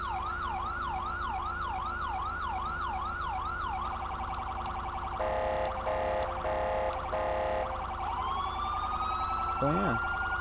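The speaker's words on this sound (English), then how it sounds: "your nice little siren sound" A police siren from the modded video game GTA FiveM (Chicago police car) cycles through rising and falling wails, then switches to rapid yelping and blaring patterns, loud and electronic against a low background hum.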